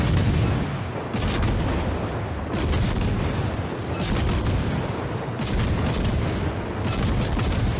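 Battleship guns firing in the World of Warships: Legends naval combat game, repeated heavy booming salvos in irregular bursts over a constant roar of battle noise, loud and close.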